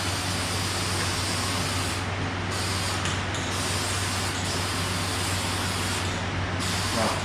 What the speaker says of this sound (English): So the plastic pieces, I'm going to give them a coat of adhesion promoter